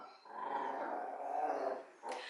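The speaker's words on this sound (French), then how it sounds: "c'est les chiens qui jouent" Several dogs playing indoors, growling and grumbling in a steady, fairly close stream for about two seconds, then a short break before a yip and more growling.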